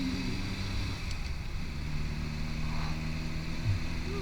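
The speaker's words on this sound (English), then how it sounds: "This little engine is pretty good actually. Little red top." A 1983 Reliant Rialto estate with its small red top engine pulls along from inside the cabin, a steady close drone of engine and road noise with a few faint shifts in pitch.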